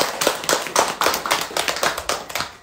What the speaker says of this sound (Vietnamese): Nếu đúng quý vị cho tràng pháo tay